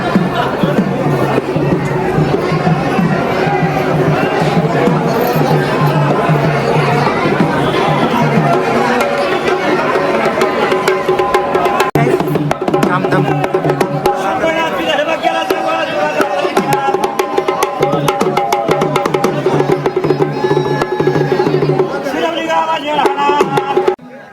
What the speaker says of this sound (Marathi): तीच गर्दी आहे